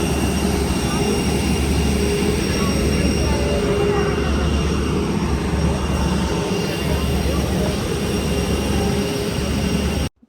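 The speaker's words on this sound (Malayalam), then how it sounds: "ഡൽഹി എയർപോർട്ടിൽ നിന്ന് ഒരു മെട്രോ പോലെ കയറിയിട്ടാണ് കേട്ടോ നമ്മൾ ഫ്ലൈറ്റിലേക്ക് എത്തിയത്." Airport metro train at Delhi airport rumbling steadily throughout, a continuous loud low-pitched ride noise with faint wheel and carriage hum, cutting off abruptly at the end.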